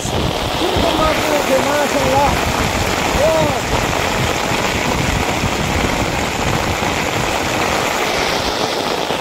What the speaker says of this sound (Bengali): এতটা বৃষ্টি সামাল দেওয়া যাচ্ছে না।